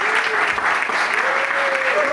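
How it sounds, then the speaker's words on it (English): A conference audience applauds a real estate agent with dense, steady clapping that holds at full strength throughout, a faint tone ringing faintly underneath. "Let's give Jose a big round of applause"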